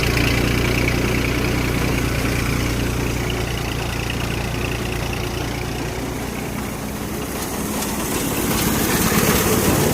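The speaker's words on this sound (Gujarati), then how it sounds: "ટ્રેક્ટરનો રેસ બતાવી આપણે 5નો રેસ રાખ્યો ટ્રેક્ટરમાં।" A tractor engine runs at a fixed throttle during a wheat harvest in hot sun, giving a steady, loud, continuous drone that dips slightly near the end before picking up again. No one speaks.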